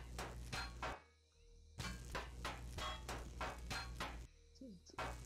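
A rock drill deconstructs a container in Empyrion Galactic, rattling in rapid repeated bursts of hammering and chattering that stop and start in several runs, with a few brief pauses between them.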